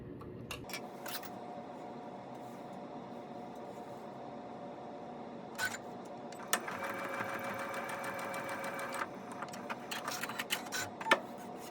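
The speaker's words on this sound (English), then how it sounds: "now I'm going to place an anchoring seam just above the next pattern line here" A sewing machine runs in a short burst as it stitches an anchoring seam along a pattern line, a fast, even mechanical whir at moderate volume over a quiet room, with no speech.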